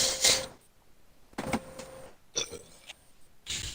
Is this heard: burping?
yes